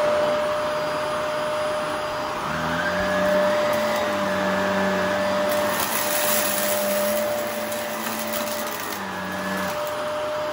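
A Shark Navigator NV352 vacuum cleaner with a failing motor runs steadily and fairly loud, its motor whine holding a constant pitch alongside a rough, whirring airflow roar, with no one talking.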